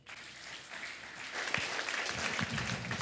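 A church congregation at an Indonesian revival service breaks into applause, clapping swelling from a quiet start into a full, steady burst of hands with a few louder claps.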